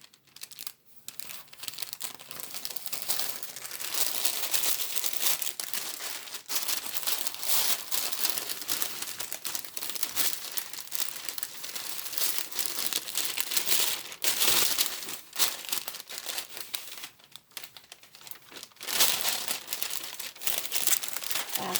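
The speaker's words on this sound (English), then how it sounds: "I'm just going to turn this shirt right inside out" A taped T-shirt being turned inside out, with continuous close crinkling and rustling of fabric and tape, rising and falling in busy bursts for a long stretch without talking.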